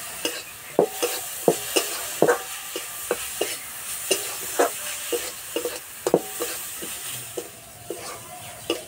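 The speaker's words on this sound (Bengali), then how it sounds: "এই জলটা সব এইভাবে জাল দিয়ে শুকিয়ে নেব" Melted jaggery syrup is cooked down in a pan over heat while a spatula scrapes through it in steady, repeated strokes about once a second, over a soft, continuous bubbling sizzle.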